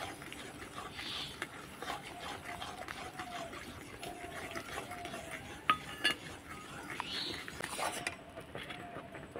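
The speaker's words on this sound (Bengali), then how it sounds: "অল্প অল্প দিয়ে আমি সুজিটাকে অনবরত নাড়তে থাকবো।" Semolina stirred without pause into milk in a pot for a carrot rasmalai, a spoon scraping and clinking steadily against the metal in soft repeated strokes, with a few sharper taps.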